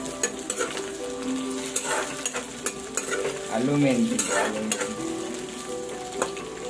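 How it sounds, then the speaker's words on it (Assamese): Potatoes sizzle and crackle in hot oil in a pan while cooking an Assamese-style local chicken curry, with steady frying hiss and intermittent scraping clatter as they are stirred, and someone speaks briefly nearby. "আলুখিনি ভালকৈ ভাজিব লাগে আৰু চিকেনখিনি ভালকৈ ভাজিব লাগে।"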